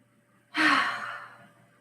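A single long, breathy exhale during a vinyasa yoga class, close and fairly loud, rising suddenly and fading over about a second, with no talk.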